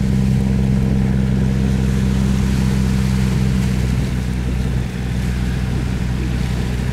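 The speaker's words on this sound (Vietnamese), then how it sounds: "âm thanh động cơ nghe cũng rất là đã lỗ tai các bạn" A large boat's engine running while it reverses, churning up muddy water: a loud, steady low drone with a strong rumbling hum that holds evenly throughout, with only a brief dip near the end and no voices.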